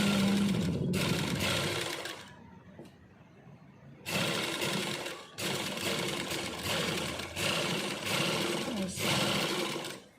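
Domestic sewing machine stitching a simple shirt sleeve, running in several bursts of rapid, steady stitching with a short pause near the middle, close and fairly loud with no talking.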